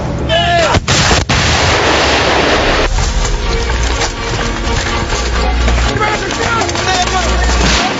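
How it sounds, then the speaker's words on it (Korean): Artillery barrage and gunfire ring out during a South Korean simulated war game exercise in a forest, with heavy booms and cracking shots sounding loud and continuous, sharp bursts punctuating a dense rumbling roar. "포격과 동시에 일제히 공격이 시작된다"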